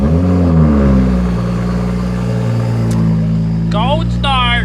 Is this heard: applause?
no